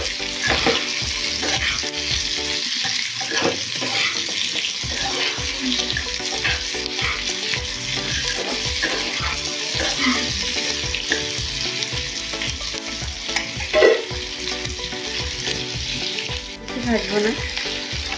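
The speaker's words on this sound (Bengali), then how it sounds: "টমেটোটা একটু ফ্রাই হওয়ার পর দিয়ে দেবো ক্যাপসিকাম আর পেঁয়াজ। এটা জাস্ট হালকা হাতে নেড়ে" Capsicum and onion being lightly stirred into frying tomato in a pan while preparing chicken do pyaza, with a steady close sizzle broken by scraping stirs and soft clatter, no voices.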